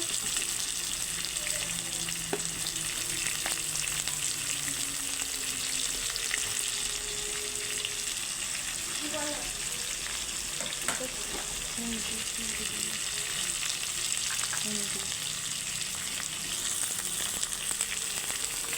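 Potatoes fry with turmeric and salt in a pan, a steady dense sizzle running throughout with occasional stirring scrapes, close and fairly loud, no talking.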